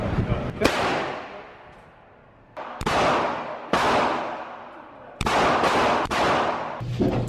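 Gunshots at an outdoor shooting range, a handful of loud sharp cracks spaced a second or two apart, each trailing off in a short echoing decay, with people talking in between.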